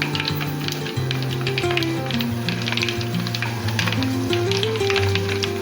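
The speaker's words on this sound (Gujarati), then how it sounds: "શેકાવા દેવાના છે લાલ મરચાં છે ને" Red chillies roast in hot oil for a pickle, giving a steady, close sizzle that runs unbroken throughout with a tonal background sound over it.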